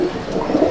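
Pigeon cooing from a home loft of breeder pigeons, Teddy, Golden, Kamagar and Dabwale types, a short low burbling coo that is close and steady with no talk.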